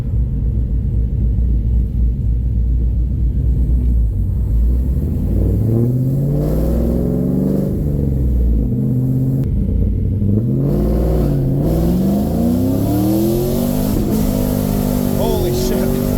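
A Pontiac Trans Am accelerates hard on the road, its loud engine rumbling and revving up through several gear changes, with the pitch climbing and dropping between shifts from inside the car.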